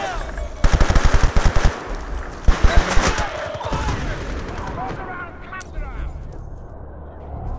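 Rapid automatic gunfire in the video game Battlefield: Bad Company 2, two close, loud bursts of quick shots, the first longer, then a shorter volley, followed by lingering echo and quieter ambient noise.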